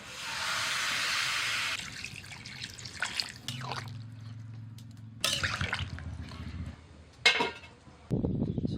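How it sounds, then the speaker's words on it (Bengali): Water is poured from a vessel into a pan of frying potatoes and soybeans, opening with a steady rushing stream, then splashes, drips and a hiss from the pan, close and fairly quiet. "এবার জল দিয়ে দিচ্ছি।"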